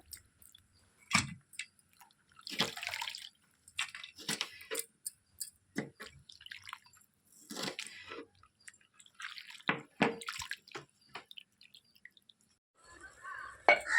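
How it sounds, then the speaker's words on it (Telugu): Chopped amaranth greens being washed by hand in salty water in a village kitchen: scattered close splashes, drips and wet handling noises come in short bursts separated by quiet pauses. "ఇప్పుడు ఉప్పు నీటిలో శుభ్రంగా ఇలా కడుక్కోవాలన్నమాట"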